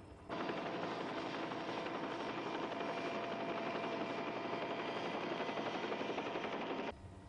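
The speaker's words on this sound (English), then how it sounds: "I'll have to move the copter clear" A helicopter hovers close by near a volcanic crater in intense heat, its rotor producing a loud, steady broadband roar with rapid chopping that holds constant for about seven seconds before cutting off.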